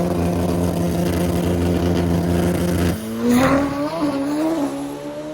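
A Top Fuel drag motorcycle at full throttle, its engine a loud, sustained harmonic roar that shifts abruptly partway through into a rising, wavering howl as it tears down the strip.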